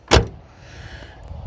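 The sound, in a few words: K car door closing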